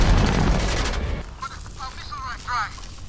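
Ship's counter batteries open fire in an Expanse space battle, a dense roaring burst of rapid gunfire for about a second, then fading into softer rumbles and faint electronic tones.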